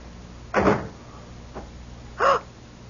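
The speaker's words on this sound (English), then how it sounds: "Come in, close the door." A door shuts in a radio drama, giving two distinct thuds about a second and a half apart with a faint knock between them, close by over a quiet room hiss.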